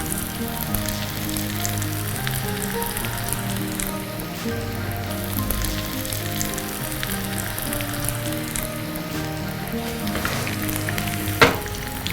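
Bread-coated chicken cutlets frying in oil give off a continuous, dense close-up sizzle resembling rain on a surface, holding steady throughout with one sharp click near the end and no voices.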